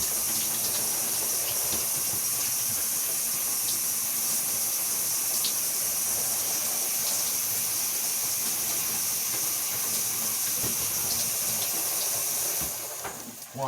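Tap water runs steadily into a sink while someone brushes their teeth, a constant close hiss that stops abruptly near the end.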